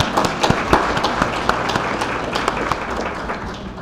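An audience at a political talk breaks into steady applause, a dense wash of many hands clapping at a moderate distance, holding even for a few seconds before starting to fade.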